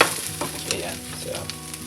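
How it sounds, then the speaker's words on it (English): Ketchup is stirred into heated, boiling beans in a pan: a steady sizzle and bubbling under repeated scraping strokes of a utensil, close and continuous, with no talk. "And just start stirring that ketchup in there."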